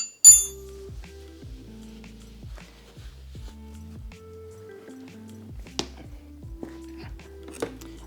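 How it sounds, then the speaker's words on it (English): A wrench tightens the drain bolt on a Talaria Sting R electric dirt bike during a break-in gear oil change, giving a close, fairly quiet series of regular metallic clicks and light clinks with no talking. "then we're going to give it a little bit of torque with our wrench"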